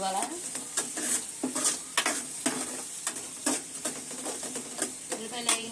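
Onions frying in a pan before prawns go in, a close, bright sizzle broken by frequent spatula scrapes and clinks against the pan in an uneven, busy rhythm.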